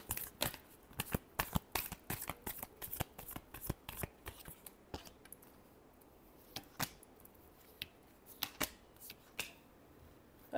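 Tarot cards are shuffled by hand in a quiet room, giving a rapid run of crisp riffling snaps and slaps that thins out into scattered single flicks toward the end.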